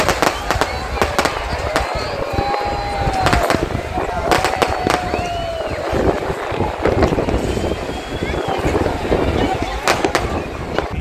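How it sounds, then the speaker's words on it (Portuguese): New Year fireworks along the Fortaleza, Brazil coast crackle and bang repeatedly in irregular bursts, with whistling rockets and crowd noise and voices mixed in. "Ao longo do litoral de Fortaleza, não faltaram os tradicionais fogos de artifício."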